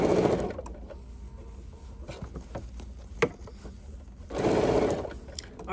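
A sewing machine stitches bias binding onto the seam of a steampunk dopp bag, with two short bursts of fast whirring at the start and near the end, separated by quieter handling of the fabric.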